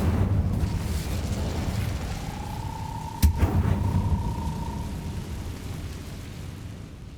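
Incendio fire spell from Hogwarts Legacy, a sharp burst that flares up and then gives way to a long sustained tone over a steady rumbling game backdrop, with no talk.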